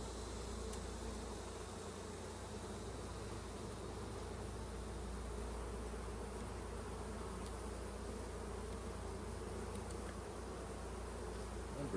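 Honey bees hum at an open beehive in a continuous, even buzzing drone that stays soft and steady throughout, with no pauses.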